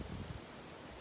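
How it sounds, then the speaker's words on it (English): Outdoor wind buffets the microphone, a rough low rumble that swells in the first moments and then settles into a steady rushing hiss, with no voices. "A lot of wind blowing"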